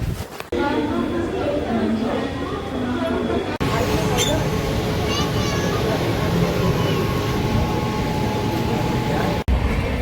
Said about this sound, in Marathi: आता आम्ही बसलो ट्रेनमध्ये.